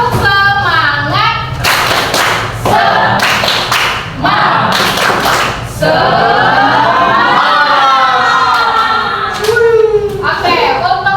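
A school class performs the rhythmic 'tepuk semangat' clapping chant, with loud sharp handclaps in patterned bursts mixed with many voices chanting together, close and energetic.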